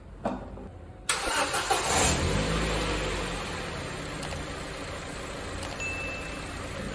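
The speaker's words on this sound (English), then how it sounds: "So I'm gonna start the engine right now" A car engine cranks briefly after a click, catches and settles into a steady idle, the alternator under test on a LIN-controlled charging system.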